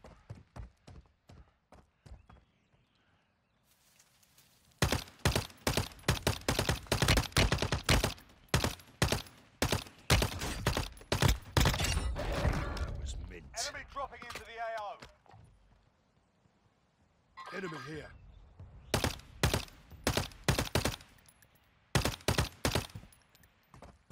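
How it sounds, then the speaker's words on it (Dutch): Gunfire in the mobile shooter game Warzone Mobile: loud, close runs of sharp shots come in rapid clusters with short gaps, a few fainter isolated cracks at the start and a brief noisy lull midway. "Wordt hier sniper geschoten?"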